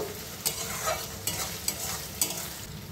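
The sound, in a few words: ginger garlic paste frying with onions in a pan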